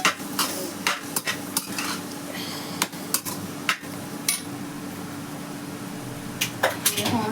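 A spoon tosses Hakka noodles in a hot pan, with sharp irregular scrapes and taps over a soft sizzle and pauses between bursts of stirring.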